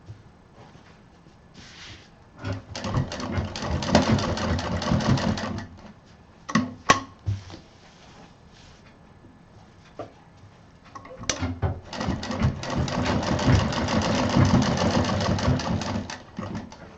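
Sewing machine stitching a double-pocket mobile pouch, running in two longer bursts of rapid mechanical stitching separated by a quiet pause with a few clicks and handling knocks.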